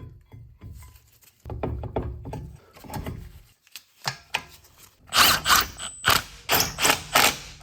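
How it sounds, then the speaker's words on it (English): Brake caliper being refitted over the rotor and new hub on a BMW F2x/F3x xDrive front wheel: a run of close metallic clunks, scrapes and knocks, sparse at first then louder rhythmic clanks and ratcheting toward the end, with no talking. "Now we get the caliper back on."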